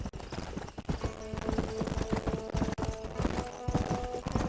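Hooves clip-clop in a quick, steady galloping rhythm as a horse runs in the Red Dead Redemption video game, close and prominent over a busy game soundscape, with a brief whinny and a voice or two passing through.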